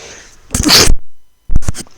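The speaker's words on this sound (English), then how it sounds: "hopefully I muted that in time for that sneeze" A single loud, close sneeze with a sharp burst, followed by a brief silence and a second sniffing, sneeze-like burst.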